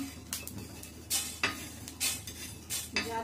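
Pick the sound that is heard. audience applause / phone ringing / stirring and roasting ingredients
stirring and roasting ingredients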